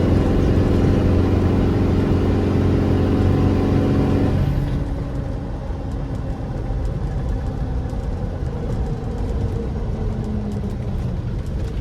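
A 1988 Land Rover 110 with a 300Tdi diesel, a big lift, large tyres and rear drum brakes slows to a stop: steady heavy engine and road drone that drops away midway, leaving a quieter low idle rumble inside the cab.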